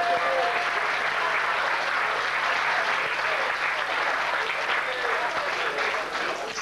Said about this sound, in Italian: Facciamoci una bella applauso.